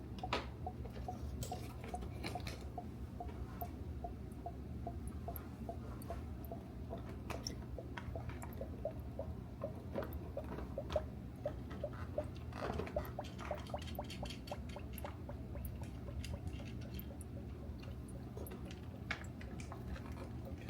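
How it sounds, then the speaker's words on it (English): Coolant bubbles quietly while a YagerWerx intercooler heat exchanger is bled, a faint steady stream of small pops, ticks and gurgles over a low constant hum, close up and with no one talking. "Kind of just let it sit there and bubble down, which means it's filling up the heat exchanger."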